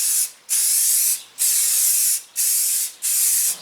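Clear coat sprayed onto a fiberglass subwoofer box in close, loud hissing bursts, four long sprays with brief pauses between them and no talking.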